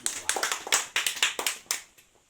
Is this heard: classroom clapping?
yes